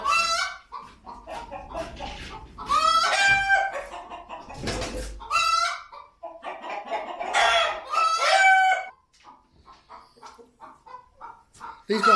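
Hens on a backyard farm cluck and squawk loudly in their coop, with a rooster crowing amid bursts of excited calls and quieter murmuring toward the end; a person speaks briefly.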